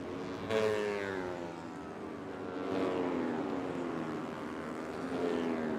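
Racing motorcycles on slick tyres with new exhaust systems lapping the Sugo circuit in Japan during an Asia Road Racing Championship warm-up, engines whining past in rising and falling passes, fairly faint and distant.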